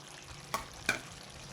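Hand-crushed tender tamarind leaves go into chicken frying in a pan, giving a soft steady sizzle with two sharp stirring scrapes close by.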